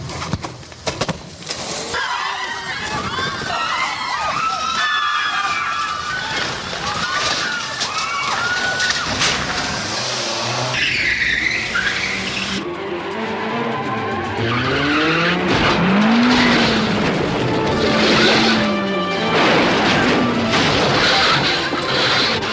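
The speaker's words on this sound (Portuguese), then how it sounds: "São 4 carros Mitsubishi Evolution 4, transportados para a África do Sul e Holanda, para Jack destruí-los nas filmagens" Mitsubishi Evolution IV cars skidding and crashing during film stunts, loud tire squeals and engine roars with sloshing and impact noises, sustained over twenty seconds with brief voices mixed in.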